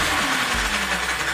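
The electric motor of an Arrma Outcast 8S EXB RC car, 800KV with a 25-tooth pinion, whirs steadily at close range on low power, a continuous buzzing hum with slight wavering and no voices.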